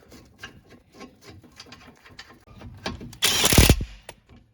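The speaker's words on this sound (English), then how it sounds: "So next we will put back on the bracket. I'll hand tighten those bolts to start." Bolts on a Honda CR-V front brake caliper bracket are threaded in by hand, giving a run of small metallic clicks and ratcheting ticks, then a louder clattering burst near the end, close up with no talk.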